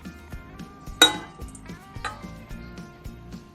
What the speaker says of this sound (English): and then you put the second egg in.